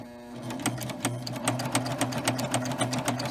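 A Baby Lock serger runs a chain stitch on an apron, giving a steady rapid mechanical whirr with regular rhythmic ticking, close and alone.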